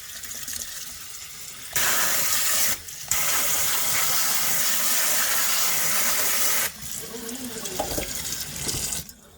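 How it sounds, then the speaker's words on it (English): Steady running tap water splashes and hisses for several seconds, cutting off briefly and returning, with faint handling sounds as dandelions are rinsed. "And then I will give it another rinse."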